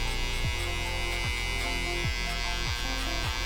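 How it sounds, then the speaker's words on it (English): Electric hair clippers run close and steady during a high skin fade haircut, a constant buzzing hum with a regular, slightly pulsing drone throughout. "we're gonna come in with just our clipper open"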